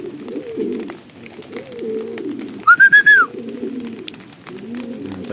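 A short, clear run of bird calls rings out briefly in the middle, over low rumbling background noise and quiet murmuring.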